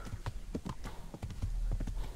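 Horse hooves clip-clop at a steady walking rhythm in a video game, close and fairly quiet, with no other sounds around them.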